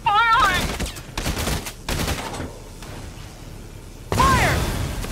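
Soldiers fire rapid volleys in the video game Valkyria Chronicles 4, several loud sharp bursts in quick succession, with shouted voices at the start and end.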